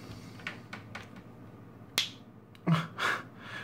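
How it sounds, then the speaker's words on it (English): Sharp, brief snaps and crackles from a cheap replica MacBook charger sparking as it is plugged in, a few close clicks with two louder pops near the end over a quiet background. "I hear a small or sometimes an even big spark"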